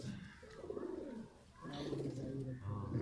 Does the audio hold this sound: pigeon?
yes